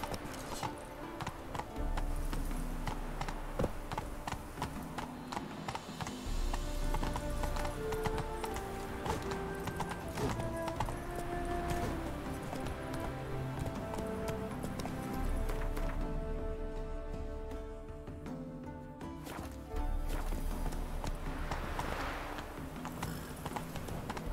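Roach the horse galloping in The Witcher 3, quick rhythmic hoofbeats running continuously under loud game music and ambience, with no talking.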